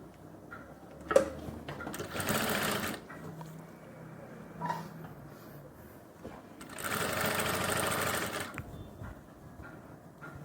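A sewing machine stitches a zip into women's pants in two separate runs, with soft handling clicks and a low hum between the bursts.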